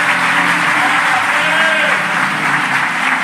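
A church congregation applauds a pastor, a steady wash of clapping and crowd noise filling the space throughout, loud and continuous.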